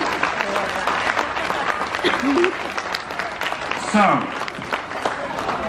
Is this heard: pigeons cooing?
no